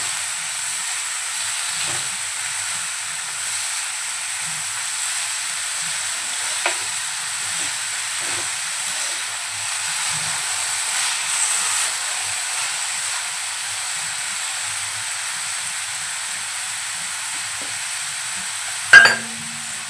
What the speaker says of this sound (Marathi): एकदा फिरवून घेऊया अलगद।